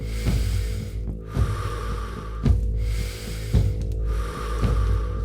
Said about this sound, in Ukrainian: Вдих, видих. Вдихайте енергію. Видихайте стрес.